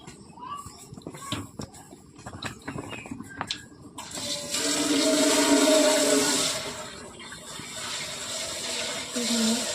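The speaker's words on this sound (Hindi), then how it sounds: "गाय को पानी देती हूँ अब।" Water splashes and pours steadily as it is given to a cow during early-morning farm chores, a loud rushing wash after a few seconds of clinks and handling noises.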